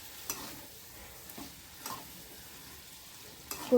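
Mixed vegetable bhaji cooks in oily masala with a faint, low sizzle, broken by a few soft spoon clicks at irregular intervals and a louder knock at the very end.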